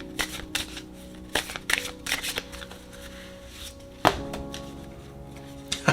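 Tarot cards being shuffled in quick riffling bursts, a few separate rounds of crisp flicking and slapping, close up with no talking.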